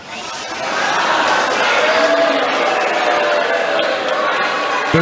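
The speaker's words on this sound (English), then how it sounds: "They're booing" Crowd noise from the audience at the president's 2024 State of the Union address, a loud sustained roar of voices that swells in after the first half second and holds steady throughout, with talk mixed in.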